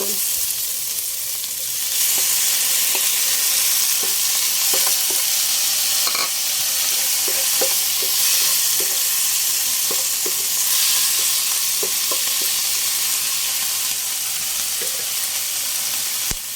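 Chicken pieces and chopped tomatoes fry in a pan for a patola and miswa dish, giving a steady loud sizzle with repeated clicks and scrapes of stirring throughout.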